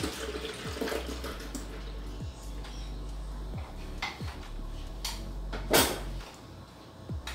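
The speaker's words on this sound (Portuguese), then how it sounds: "primeiro a gente vai colocar o leite" A liter of milk is poured into a pot, a low liquid stream and gurgle under quiet kitchen clatter, with a few knocks and one louder clank near the end, heard close and moderately soft.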